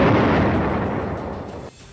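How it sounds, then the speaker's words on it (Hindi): Explosions at a Russian military base in Crimea produce a loud, sustained booming rumble that fills the clip and fades slightly before dropping off near the end. "सोशल मीडिया में वायरल हुई तस्वीरों में वहां जोरदार धमाके होते हुए दिखाई दिए थे।"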